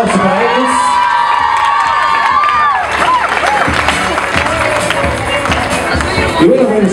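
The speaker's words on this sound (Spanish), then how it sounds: "Fuerte el aplauso para ellos." Guests at a quinceañera party applauding and cheering for the girl's parents, loud and close, with whoops, shouting and excited voices throughout.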